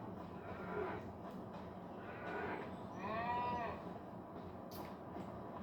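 A calf gives one drawn-out bawl partway through, heard over a low background hum with faint rustling around it.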